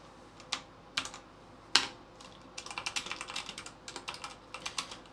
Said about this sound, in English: Man, I cannot type today.